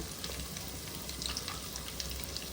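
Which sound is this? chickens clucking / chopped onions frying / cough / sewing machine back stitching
chopped onions frying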